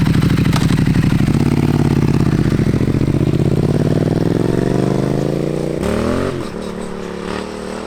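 A motorcycle revs hard and holds a loud, rising engine note close by on an empty road, then drops off sharply near the end as the throttle eases.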